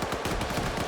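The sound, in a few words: machine gun fire in the video game Arma 3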